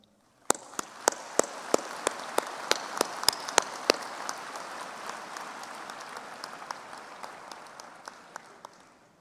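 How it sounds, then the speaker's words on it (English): Graduation ceremony audience in a large hall breaks into sustained applause for new veterinary and agricultural science graduates, a broad rain-like wash of clapping with one nearby clapper's sharp rhythmic claps on top, slowly thinning toward the end. "A round of applause to our graduates."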